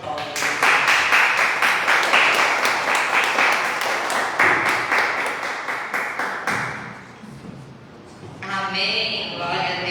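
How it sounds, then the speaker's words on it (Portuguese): A church congregation claps in a brisk, fairly even rhythm, loud and full, before the clapping dies away and a voice begins speaking near the end. "Uma salva de palmas."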